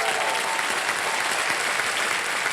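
Studio audience at the KBC season 15 quiz show breaks into steady, dense applause for a contestant, close and continuous with no talk over it.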